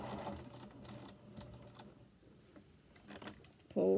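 A sewing machine stitching a fabric bowl cozy in quick rattling bursts with brief pauses, fairly quiet and close, ending in a louder run.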